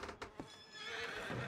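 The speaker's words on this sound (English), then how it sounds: "Oh, you nasty ass horse." A horse in Red Dead Redemption 2 gives a short, loud neigh after a couple of hoof clops, followed by a breathy, rising whinny.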